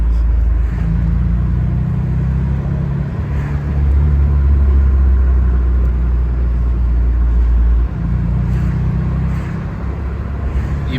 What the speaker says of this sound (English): Lets you hear all the great sounds of the Roadster experience.